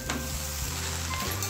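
Cashews frying in a hot pan for a vegetable khichdi, giving a steady, dense sizzle throughout, loud and close with no talking.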